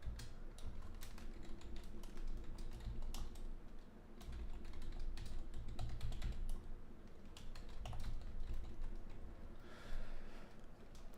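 Rapid typing of code on a computer keyboard, dense irregular clicks and key taps continuing steadily throughout, close and alone with no speech.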